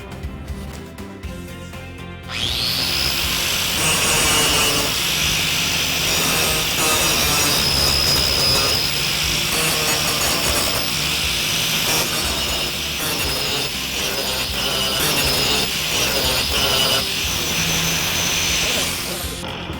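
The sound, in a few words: grinding off nail heads on back of wooden bear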